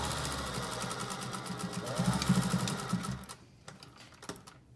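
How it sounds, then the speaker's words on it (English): A sewing machine stitching fabric for a face mask, whirring in a rapid, even mechanical rhythm close to the microphone, then stopping to leave a few light clicks. "This you want to sew right along the left edge as much as you can."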